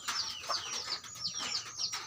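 A chicken gives a string of short, bright clucks, repeating about every quarter second, close and fairly clear with little else around it.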